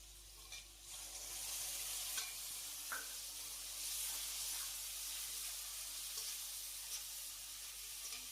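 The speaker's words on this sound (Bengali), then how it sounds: "আমাদের মশলাটা কষানো হয়ে গেছে" Spice paste for Bengali shukto frying in a pan, giving a steady close sizzle with faint stirring scrapes throughout, and no one speaking.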